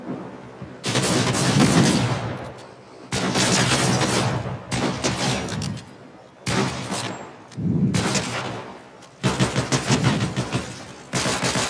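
Shotgun fire in the video game Fortnite, heard as repeated loud, close blasts that come in bursts, each trailing off with a brief decay and separated by short silent gaps.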